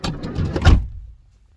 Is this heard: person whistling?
no